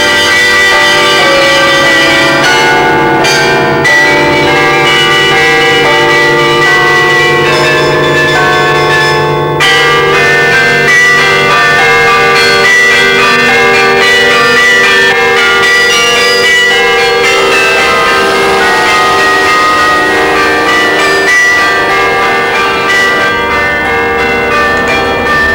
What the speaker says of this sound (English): The bell tower is above him, so he can't hear the individual bells properly